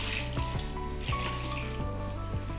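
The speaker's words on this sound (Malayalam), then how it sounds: "ഇതിലേക്ക് ആവശ്യമായ വെള്ളം കൂടെ നമുക്ക് ഒഴിച്ചു കൊടുക്കാം" Water runs and splashes into a pot of Kerala-style avial vegetables in a steady stream with a few gurgling bursts, nearby and moderately loud.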